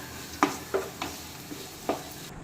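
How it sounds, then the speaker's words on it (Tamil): Grated beetroot with turmeric, chili and coriander powders being stirred in a frying pan: five distinct spatula scrapes at an uneven rhythm over a light background sizzle, close up with no voices. "மஞ்சள் தூள் மிளகாய்த்தூள் மல்லித்தூள் ஆட் பண்ணி நல்லா கிளறி விட்டுக்கலாம்"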